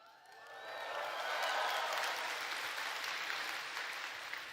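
Audience applause fills a large hall at the FFXIV Fan Fest keynote in London, swelling quickly into steady clapping from a big crowd, then holding before easing slightly near the end.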